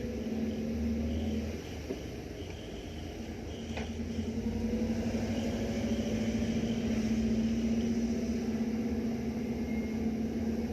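A car passes along a narrow village road near Karang Tengah, a steady engine hum with low rumble held for several seconds at moderate distance, with no talking.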